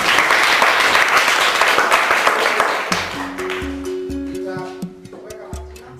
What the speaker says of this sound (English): much to the excitement of her fellow classmates who clap for her